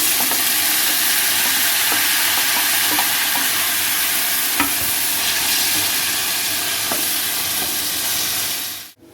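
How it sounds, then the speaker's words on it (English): Onion and garlic sauté in a pan for golden browning, giving a loud, continuous close sizzle with occasional faint stirring clicks, alone without speech, cutting off abruptly at the end. "Saute onion and garlic till golden brown."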